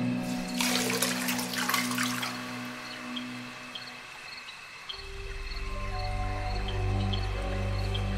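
Coffee poured from a pot into a cup makes a brief splashing trickle lasting about a second and a half near the start, then fades into a low, sustained musical drone.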